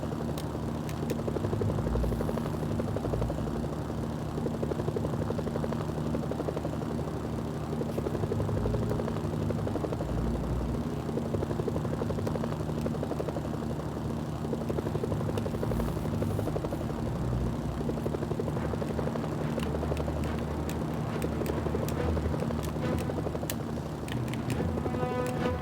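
A helicopter in the video game Mercenaries: Playground of Destruction gives a steady, close rotor thrum with a droning engine that holds for the whole stretch, with no speech over it.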